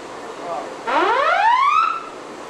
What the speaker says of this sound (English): The following is a test of the helo crash alarm from the helo tower.